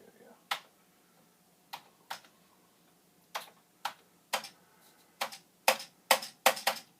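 Keys pressed one at a time on a Commodore 64 keyboard being tested, with one key sticking: about a dozen sharp, close clicks, sparse at first and then coming faster, with faint talk in the background.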